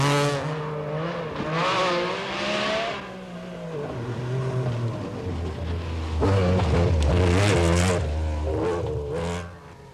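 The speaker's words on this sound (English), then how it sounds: "Watch Tony rocket through the rugged grandeur of Rest and Be Thankful, glorying in the handling, the power, the traction, the sheer performance of the MG Metro 6R4" An MG Metro 6R4 rally car driven hard on a rally stage at Rest and Be Thankful, its engine loud and near, revving up through the gears with pitch rising and falling as it shifts.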